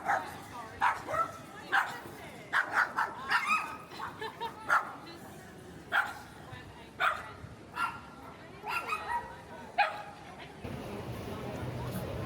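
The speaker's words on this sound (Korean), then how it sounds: "이렇게 산책하는 멍멍이들도 많이 만날 수 있었어요" Dogs bark in a rapid series of yips and woofs, some near and some farther off, while out walking along Manly Beach in Sydney, with ambient beach background noise beneath.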